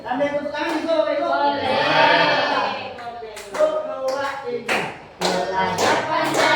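Hand clapping, brisk and steady, mixes with a group of voices singing or chanting in a lively indoor setting.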